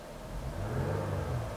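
A car engine revs up while accelerating during a scan-tool live-data check, a steady mid-pitched rumbling whir that rises and holds close by.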